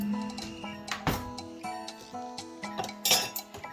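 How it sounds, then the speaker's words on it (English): A spoon clinks and scrapes against a bowl while mixing olive oil into ground turkey meat for meatballs, a steady run of light metallic taps and ringing knocks up close, with no talk. "Grab me a nice little spoon to mix with."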